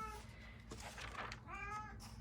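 A house cat meows a few times in short, fairly faint calls indoors, heard alone without talking.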